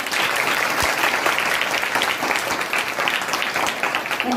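Audience at a Marathi kirtan applauds loudly, dense sustained clapping filling the whole stretch at an even level.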